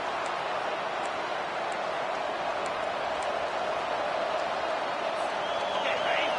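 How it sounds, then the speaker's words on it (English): Football stadium crowd at a game, a steady loud roar of cheering and noise that holds throughout, with faint commentary speech over it. "this crowd is fired up. Listen to this noise here."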